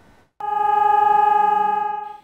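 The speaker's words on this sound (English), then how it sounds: "That's the sound of air raid sirens in Vinnytsia," An air raid siren in Vinnytsia, Ukraine, wails with a steady harmonic tone that starts abruptly after a brief silence, holds loud and close, then begins to fade.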